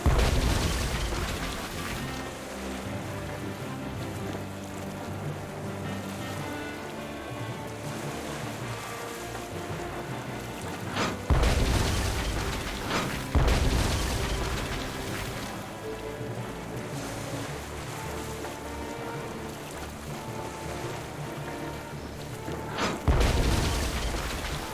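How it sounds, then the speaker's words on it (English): Cannon fire booms out in the pirate adventure game Tales of Monkey Island, with heavy blasts at intervals over a steady wash of sea and background music. "Another cannon!"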